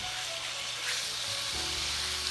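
Food sizzling and frying in a pan without flour coating, a steady crackling hiss with a low hum underneath, close and continuous.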